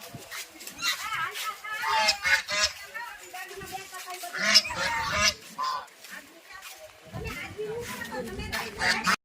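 Birds honk repeatedly and loudly nearby, a goose-like chorus of calls, while people talk over them.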